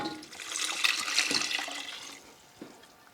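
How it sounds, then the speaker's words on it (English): Broth is poured into a pot of carrot and onion mixture for corn chowder, a splashing liquid pour lasting about two seconds before trailing off, with a small thud afterward. "I'm going to add some broth. I have some broth over here to the carrot and the onion mixture."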